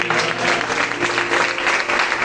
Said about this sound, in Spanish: denle un fuerte aplauso a Cristo